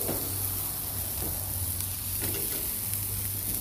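A single piece of cactus fries in a small wok, seasoned with salt, giving a steady, loud, continuous sizzle with a few faint stirring scrapes and no talk.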